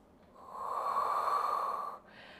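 A single long, forceful exhale through the nose during a Pilates resistance band exercise, close and clear, rising over about a second and a half and then stopping.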